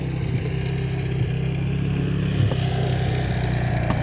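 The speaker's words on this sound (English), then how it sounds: "Daughter on the quad decides now's a good time to ride past me." A quad ATV rides past, its engine a continuous low buzzing drone that stays fairly steady and moderately close throughout.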